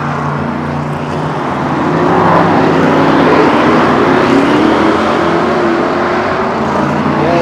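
Street stock cars roar around a figure-of-eight track in a Grand National Championship qualifying round, a loud sustained engine drone that swells as the pack passes, heard without commentary.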